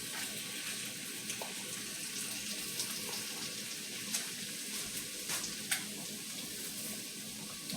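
Shrimp fry in butter in a skillet with a continuous soft sizzle and crackle, a few sharper pops and light clinks of stirring standing out, heard close with no talking.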